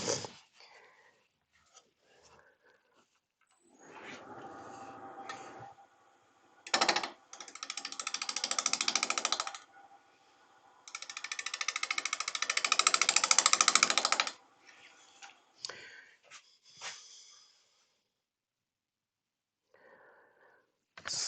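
A carving tool cuts into Sri Lanka rosewood while an incense holder is being shaped, in irregular scraping bursts of varying length separated by quiet pauses.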